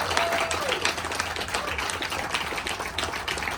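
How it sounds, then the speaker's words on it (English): A meeting crowd of transit staff gives a round of applause, a dense, steady wash of many hands clapping at moderate distance, continuous for the whole stretch. "So let's give all of them a round of applause from beginning all the way till today."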